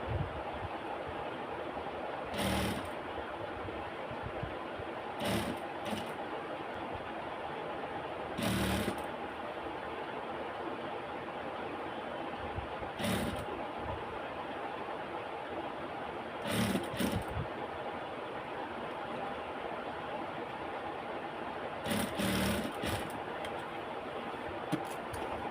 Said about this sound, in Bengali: এই যে গাইড আছে, এই গাইড বরাবর সেলাই করতে হবে, একটু 2 সুতা রেখে সেলাইটা করতে হবে।